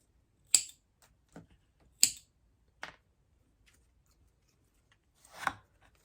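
A few sharp snips of scissors or shears cutting off part of a houseplant being propagated, two crisp louder cuts and several fainter clicks spaced apart in a quiet room.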